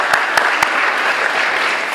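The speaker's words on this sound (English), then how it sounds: "let's give them a round of applause" A small community gathering's audience breaks into a round of applause, steady dense clapping from a modest crowd, with a few sharper claps standing out early on and no talk over it.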